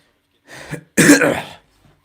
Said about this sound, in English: Sorry for the mic cough